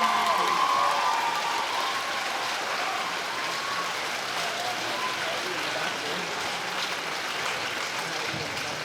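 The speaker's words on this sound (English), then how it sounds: "I think that our musicians deserve another round of applause" A school audience gives sustained applause for the musicians after a High School Musical performance, a dense, steady wash of many hands clapping that continues evenly throughout.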